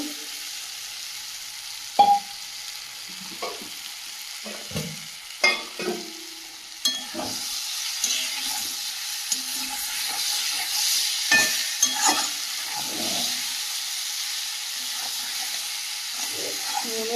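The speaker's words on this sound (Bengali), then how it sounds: "দিয়ে ভালো করে মশলার সঙ্গে কষিয়ে নেব ভেজে রাখা বরবরিটাও দিয়ে দেব" Large sea fish cooks in a pan with spices and fried green beans, a soft continuous sizzle under scattered clinks and scraping stir strokes.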